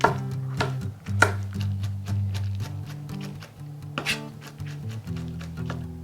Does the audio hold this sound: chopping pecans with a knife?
yes